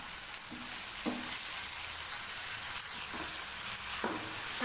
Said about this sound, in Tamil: தக்காளி சேர்த்துட்டு இதை நல்லா மிக்ஸ் பண்ணி விட்டு தக்காளி நல்லா வதங்கணும் ஃப்ரெண்ட்ஸ்